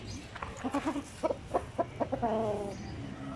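Native chickens cluck in a short, uneven series of close, moderately soft calls, with a longer drawn-out cluck near the end, over quiet farmyard ambience.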